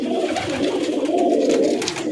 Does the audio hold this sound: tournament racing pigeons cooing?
yes